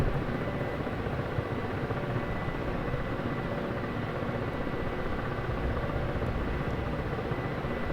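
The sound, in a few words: helicopter maneuvering during tank gunfire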